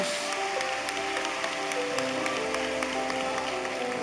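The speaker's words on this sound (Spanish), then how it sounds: "si va a aplaudir, denle un aplauso como ellos merecen" Church congregation applauds during a sermon, steady clapping from many people spread across the room and sustained for several seconds under a faint musical tone.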